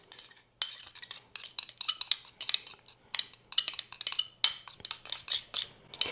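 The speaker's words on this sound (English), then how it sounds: "We're gonna mix this together really well" Joint compound and acrylic paint are stirred together by hand into a homemade metallic stencil paste, producing a steady run of quick light clinks and scrapes of a tool against a container, close and fairly quiet, with no voices.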